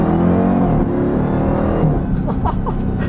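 A 2021 Dodge Durango Hellcat with its ZF 8-speed gearbox, the engine heard from inside the cabin revving loud and continuous as quick downshifts push the revs up, with a rising whine and a few short blips near the end.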